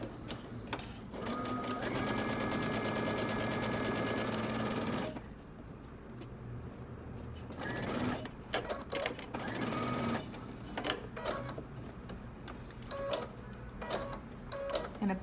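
A sewing machine stitches a jacket seam at a 5/8-inch allowance on a Simplicity 8558 pattern, running in a steady, close whir for several seconds, then in short stop-start bursts with pauses between.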